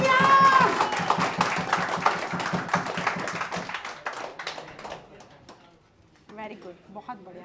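Clapping for a trainee at a mobile repair training institute, a brisk run of rhythmic claps that gradually thins and fades out, followed by a few moments of talking.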